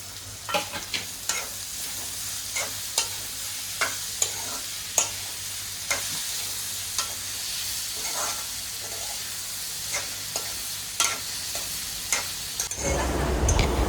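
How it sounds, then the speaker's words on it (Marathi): Chopped ridge gourd stirred with onion and tomato in a hot pan, the spatula scraping in repeated close strokes over a steady sizzle, with a brief burst of louder frying noise at the very end. "कांदा व टोमॅटो चांगले मिक्स झाल्यानंतर आपण त्याच्यामध्ये बारीक कापलेला दोडका टाकूया"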